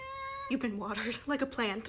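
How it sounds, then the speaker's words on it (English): A domestic cat meows indoors in a single drawn-out, clear call, followed by a person speaking close by. "I apologize if you can hear my cat meowing."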